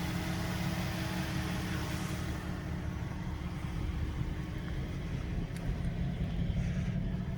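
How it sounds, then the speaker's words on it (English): A 2008 Jaguar XK with a 4.2 V8 and stock exhaust, idling and heard from inside the cabin: a steady low engine hum and drone, even and constant throughout. "Yes, the engine is running."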